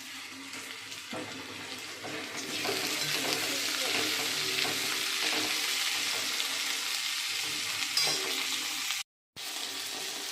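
Potatoes and jackfruit fry in a hot pan with spices, giving a steady close sizzle with the scrape of stirring and a brief break near the end.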